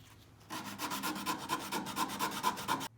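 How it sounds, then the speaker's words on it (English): Short, rhythmic scraping strokes of sanding a cut luxury vinyl plank edge, close and fairly loud, repeating quickly for a few seconds with no voices. "A little bit of sanding, smooth it down."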